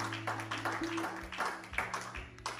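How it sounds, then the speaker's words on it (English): A church congregation applauding, with scattered, fairly faint claps in an uneven rhythm under a low background hum. "Can we please applaud for the glory of the Lord?"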